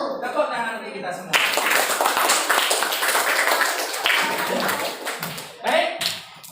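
Classroom of students clapping their hands together in a dense, sustained burst after a short spoken lead-in, fading out near the end as a voice returns.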